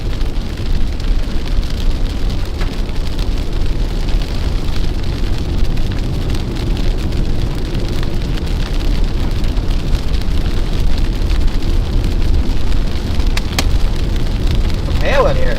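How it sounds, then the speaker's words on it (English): Hail and rain drum steadily on a storm chaser's vehicle during a Montana storm, a dense continuous patter of close impacts with occasional sharper hits, with brief talk in the cabin. "Some hail in here."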